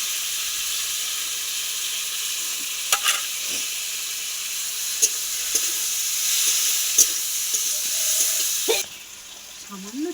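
A ground spice paste of ginger, cumin and dried red chilli fries for a rohu fish curry, giving a loud, continuous close sizzle with occasional stirring scrapes before it suddenly drops away near the end.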